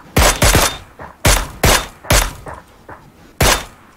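Gunfire in PUBG comes as sharp, loud, close shots, about seven in irregular pairs and singles, each with a brief booming tail and short gaps between.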